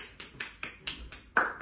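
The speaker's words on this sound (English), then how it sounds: "Give yourself a big round of applause." Slow, evenly spaced hand claps from a creative dance class for children aged 2 to 6, with about seven close, sharp claps in a steady rhythm and a slightly louder final clap.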